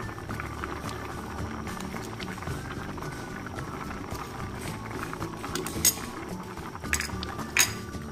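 Dried fish curry with bottle gourd leaves and salt, Sylheti shutki sheera, simmers and bubbles steadily in a pot, a continuous low burble with a couple of sharper clinks of utensils near the end.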